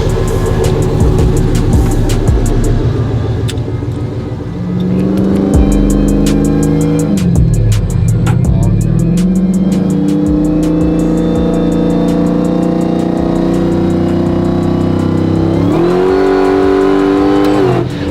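Ram pickup truck with a swapped Hellcat Redeye supercharged engine accelerating hard: a loud, close engine roar climbing through revs, dropping briefly at shifts and surging again, heard from inside the cab.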